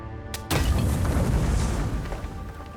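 A grenade goes off in the fantasy video game Avowed: after a short quiet moment, one sudden loud blast hits and spreads into a heavy, rolling rumble that slowly fades over the next couple of seconds.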